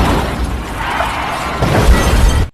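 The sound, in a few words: car crash in a traffic accident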